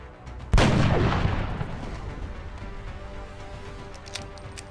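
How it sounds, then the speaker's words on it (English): A single sharp gunshot rings out in the XCOM video game as a soldier headshots an alien, the loud crack trailing into a long echoing decay over faint background ambience. "Vivmord headshots the alien."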